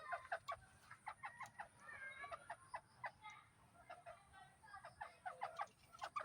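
Chickens on a farm clucking repeatedly in quick, uneven bursts, fairly faint and somewhat distant over a low outdoor background, with no voices.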